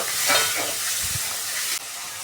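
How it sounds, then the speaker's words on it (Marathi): Tomato fries in hot oil with a close, steady sizzle and hiss, and a brief stirring rustle, for a short moment with no talking. "आता हा टोमॅटो ना तेलामध्ये एवढा फ्राय फ्राय करायचा की तो एकदम मऊ झाला पाहिजे"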